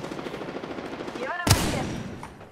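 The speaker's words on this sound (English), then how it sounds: "Taking fire" Video game gunfire crackles in rapid repeated shots, then a single loud, sharp blast stands out midway, followed by a fading tail of noise.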